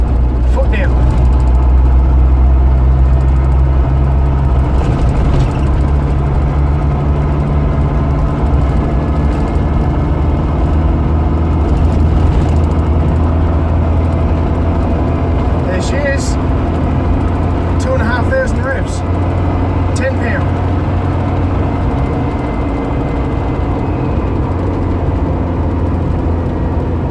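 A 4x4 engine drones steadily and loudly at about 2,000 revs and 60 km/h on corrugated rough road, with low rumbling and road noise throughout and occasional rattles and clicks.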